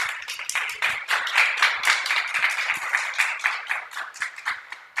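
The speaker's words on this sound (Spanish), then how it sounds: "Un aplauso para Isaac, por favor." A small audience claps for a speaker at a human rights talk, distinct individual claps blending into brisk, lively applause that carries on steadily and fades slightly near the end.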